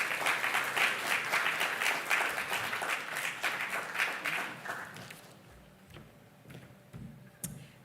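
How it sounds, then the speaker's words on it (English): An audience at an education technology fellowship demo day applauds warmly, steady dense clapping that fades out after about five seconds into quiet room noise with a few scattered claps. "Please can we give another round of applause to Angela?"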